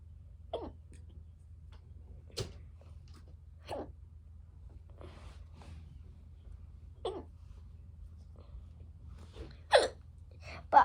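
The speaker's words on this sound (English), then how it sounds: "I have the hiccups." A child's hiccups while playing with Play-Doh: about eight sharp, isolated throat clicks spaced irregularly over several seconds against a steady low background hum.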